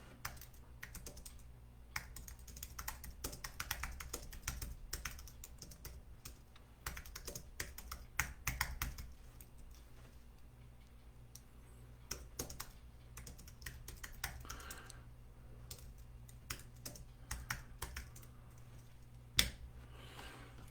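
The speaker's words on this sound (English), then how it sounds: "Just typing a quick note here in the chat." Keys tapped on a computer keyboard while someone writes a quick chat note during a live stream, a soft, fairly faint, irregular patter of clicks with short pauses, heard alone against a low steady background hum.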